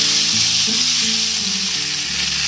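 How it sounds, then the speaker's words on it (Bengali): Amla, Indian gooseberry, sizzling and being stirred with spices in a hot wok, a continuous loud frying hiss with occasional scraping and knocks of the spoon, no voices. "আমলকিটা কড়ার মধ্যে দিয়ে সমস্ত মশলার সাথে খুব ভালোভাবে এইভাবে নাড়াচাড়া করে নিতে হবে।"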